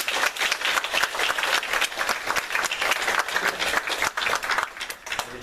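A church congregation at Sunday worship breaks into warm, sustained applause, many hands clapping together in a dense, steady roar that carries on for several seconds before easing slightly.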